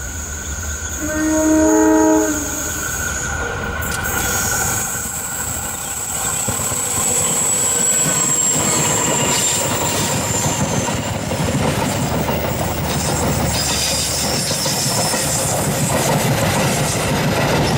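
A locomotive hauling the Penataran passenger train passes at Kertosono, Indonesia: a loud horn blast near the start, then a long, close, roaring rumble of wheels and cars with rhythmic clacking and squeals.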